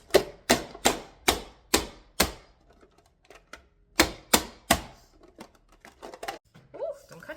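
Sharp knife chops on a board in a home kitchen, about eight quick, loud, close strikes in two bursts, then softer scraping and handling, with a voice briefly heard near the end.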